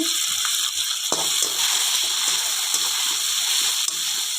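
Chana dal, urad dal, garlic, curry leaves, peanuts and fenugreek leaves frying in hot oil in a pan, giving a steady, loud sizzling hiss with light crackles and a few soft stirring knocks.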